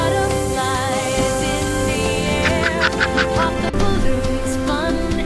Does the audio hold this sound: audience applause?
no